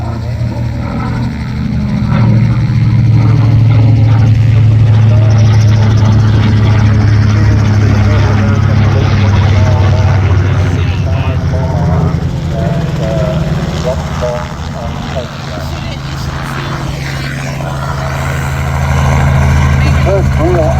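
An Avenger aircraft with a 1900-horsepower radial engine makes a flyby at an air show, a loud, sustained engine drone that swells and slowly fades, with an announcer talking over it.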